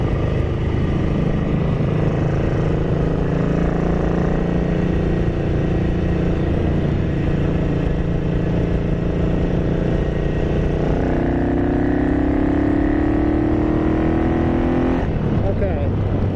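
Ducati 900SS bevel-drive motorcycle engine, running lean during carburettor tuning, revs loud and close to about three-quarter throttle, holds a high droning note, then drops back toward idle near the end.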